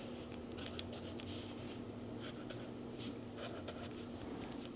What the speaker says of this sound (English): Maybe I'll just go ahead and draw a little bit more with the blue that I have. I'll put just tiny little hearts.